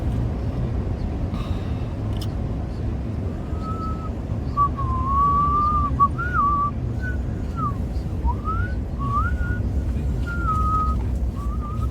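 A person whistles a wandering tune in short melodic phrases over a low rumbling background, fairly clear and close.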